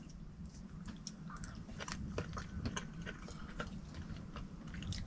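Someone chews a bite of freshly cooked food inside a converted camper van, with soft, close crunches and bites repeating unevenly over a low background hum.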